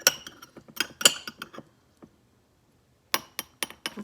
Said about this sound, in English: I'm going to get my cherries out of the jar